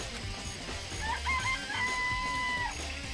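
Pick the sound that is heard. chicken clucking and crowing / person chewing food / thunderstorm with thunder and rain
chicken clucking and crowing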